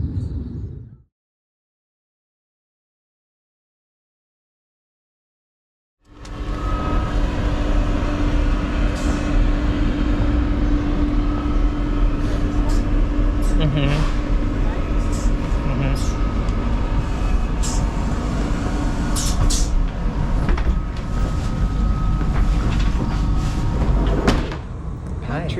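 A train carries cyclists and their bikes through southern France on a tour near Avignon. After a second or so of sound and a silent gap, a steady low rumble of wheels on rails runs with faint rattles and a few clicks.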